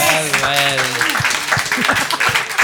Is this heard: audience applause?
yes